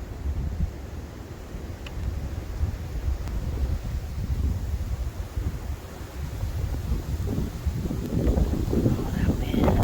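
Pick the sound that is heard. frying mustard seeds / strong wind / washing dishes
strong wind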